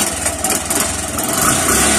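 A Yamaha YTX 125 motorcycle engine, restarted after stalling, runs at a steady loud idle with a chugging mechanical rumble and vibration, close up, with no talk.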